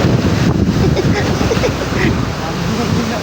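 Moderately calm sea waves wash and surge continuously on open water near a fishing boat, with steady wind rumble over the microphone throughout.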